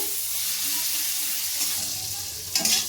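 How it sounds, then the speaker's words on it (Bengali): Onions fried with salt until browned hiss in a pan for kundri chorchori, a steady close sizzle with a low rumble, ending in a brief louder splash-like burst near the end. "এবার আমি নুনটা দিয়ে ভালো করে পেঁয়াজটাকে আমি লাল করে ভেজে নেব"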